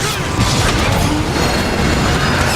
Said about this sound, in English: Into the tunnel, Decepticons, and try not to get crushed by the trains.